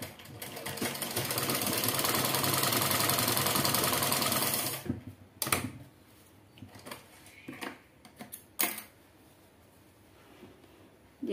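An electric sewing machine runs a continuous stitching burst while sewing four-panel petticoat seams, then stops, followed by scattered clicks and handling knocks as the fabric is turned.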